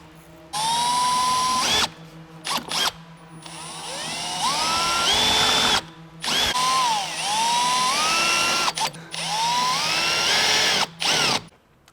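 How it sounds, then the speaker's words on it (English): Power drill boring holes during the fitting of a front splitter on a Hyundai i30N CN7, high whining bursts that rise and fall in pitch as the bit bites, stopping and restarting several times, loud and close. "Now I'm ready to drill."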